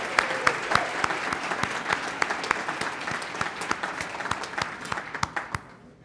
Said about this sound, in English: How about one more round of applause for all of our volunteers?